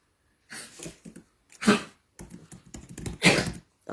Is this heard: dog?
yes